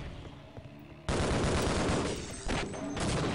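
Loud sustained gunfire from the video game Half-Life: Opposing Force bursts in after a quieter opening, a dense rapid volley with a second surge near the end.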